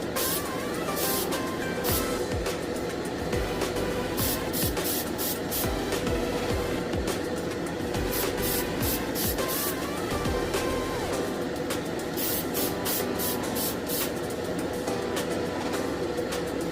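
Spray paint hisses in repeated close bursts as thin coats go onto a Plymouth A/FX model car, a steady loud spray with short pauses between passes.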